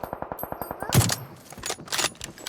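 Gunfire in the mobile game PUBG Mobile: a rapid burst of automatic shots in steady rhythm, followed by a louder impact and scattered further shots, with no talking.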